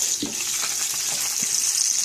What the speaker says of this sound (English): you can hear the garlic going off